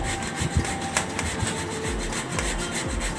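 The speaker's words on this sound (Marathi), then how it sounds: "आता हे दोन्ही आपण किसून घेऊया" Boiled, peeled sweet potatoes and potatoes rubbed against a grater, producing a continuous close, raspy scraping with rhythmic strokes roughly every half second, loud and steady, with no talking.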